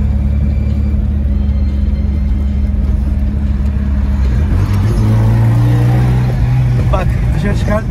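A modified Honda or Tofaş car engine idles loudly and then revs up near the end, a close rumbling drone with rising engine pitch, heard alone.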